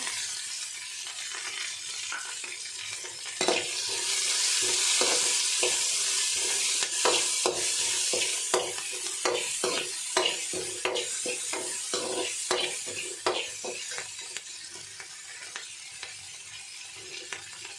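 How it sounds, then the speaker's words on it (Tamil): Green chilies stir-fried in a pan for cabbage poriyal make a close, steady sizzle that grows louder partway through, with repeated spatula scrapes and taps against the pan. "பச்சை மிளகா சேர்த்துக்கலாங்க"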